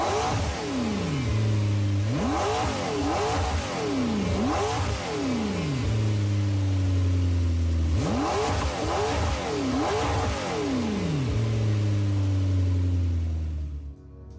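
A 2010 McLaren MP4-12C in a racing video game revs hard through repeated gear changes, loud rising engine sweeps each cut off by a shift, followed by drops to a lower drone, close and without talk.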